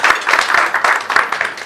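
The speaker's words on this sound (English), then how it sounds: "Another round of applause for Madam." A small group claps for a speaker at a press club luncheon, sparse and uneven hand claps with distinct individual slaps rather than a dense roar.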